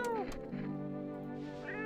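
A small cat in the horror video game No I'm Not A Human gives a couple of drawn-out meows, fairly close and clear, with faint background sound underneath.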